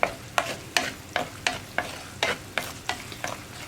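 A spoon scrapes and stirs spice powders in hot oil for a gooseberry pickle, about a dozen crisp, regular strokes with a soft sizzle underneath.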